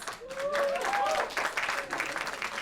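A comedy club crowd claps in answer to the comedian, a brief ripple of applause mixed with whoops and a rising whistle-like cheer, with voices audible through it.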